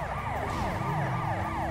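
A wailing police siren from a souped-up police car in the video game GTA rises and falls in steady sweeps, loud and continuous over a low engine rumble.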